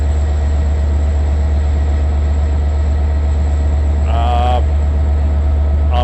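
A Long Island Rail Road substitute diesel train idles at Westhampton station with a loud, steady low engine rumble and a constant high whine. A brief higher mechanical tone rises near the end.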